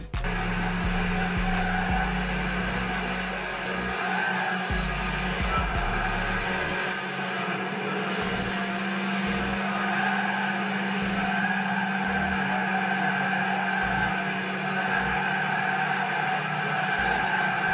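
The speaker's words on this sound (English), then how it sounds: "the sound of the car hasn't changed" A steady, droning car engine hum from the racing video game Gran Turismo 6 runs throughout with a low rumble underneath, shifting slightly in pitch like a racing car held at speed, with no voices.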